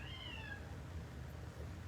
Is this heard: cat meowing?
yes